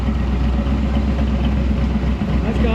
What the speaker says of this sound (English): We're firing it up right now. Listen to that sound.